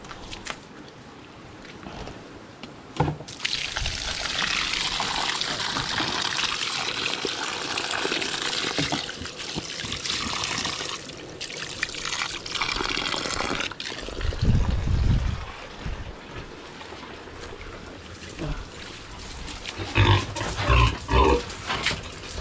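Pig being bathed with water in its pen on a farm, pouring and splashing water with faint grunts and snuffling, the splashing surging at times and ending with scattered clatter.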